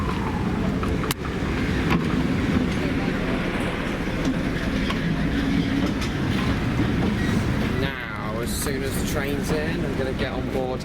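A Spa Valley Railway heritage train rumbles steadily along the track with a loud, continuous rolling roar, a brief jolt partway through, and people talking over the noise near the end.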